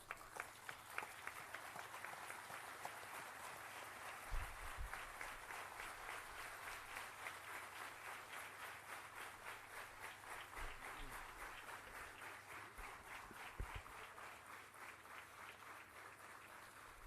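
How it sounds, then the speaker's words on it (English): Large audience at a youth gathering gives sustained, even applause for Dr. S. Jaishankar, a continuous wash of many hands clapping that holds steady for seventeen seconds at moderate distance. "I request all of you to join me in giving a round of applause and standing ovation to Dr."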